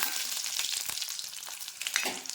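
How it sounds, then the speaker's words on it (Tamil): Mustard seeds, chana dal and red chillies fry in hot oil in a kadai with a continuous crackling sizzle, and scattered pops stand out near the end. "ஒரு எண்ணெய் வடசட்டி வச்சு எண்ணெய் ஊற்றி கடுகு கடலப்பருப்பு போட்டுக்கோங்க"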